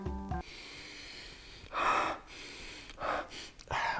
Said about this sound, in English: What the hell do I gotta sniff everything that's new?